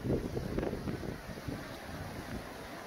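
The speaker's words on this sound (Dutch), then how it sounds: "terwijl het weer even flink waait" Strong gusting wind buffets the microphone on an outdoor walk along a public road through farmland, a steady low rumble with louder blustery surges throughout, no voices.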